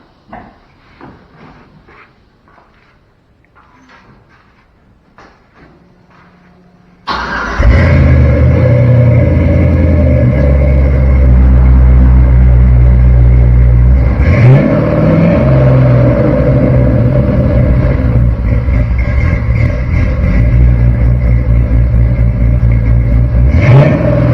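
An LS-swapped square body dually pickup truck's engine catches after a quiet stretch of small clicks and handling sounds, then settles into a loud, steady, close rumble with surging revs throughout.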